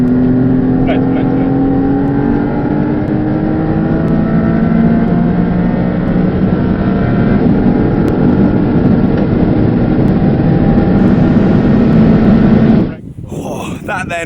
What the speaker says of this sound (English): That then was my drive in the Maserati MC20 shod with Bridgestone Potenza Race tyres.